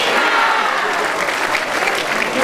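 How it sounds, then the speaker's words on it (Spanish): A crowd at a political rally for a legislative activities report claps loudly and continuously, a thick roar of applause with some voices mixed in. "Fuerte el aplauso."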